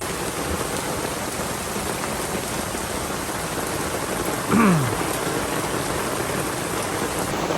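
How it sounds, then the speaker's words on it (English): Heavy rain pours steadily in a dense, unbroken hiss, with a brief low swooping sound passing midway. "It's pouring now."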